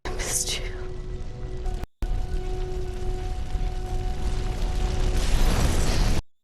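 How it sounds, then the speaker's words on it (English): An explosion from the 2025 action film Ballerina bursts out, then a loud, sustained rumbling roar carries on with a steady hum underneath, cuts off briefly, and swells again before stopping abruptly. "Actually, not sure how that explosion didn't kill them."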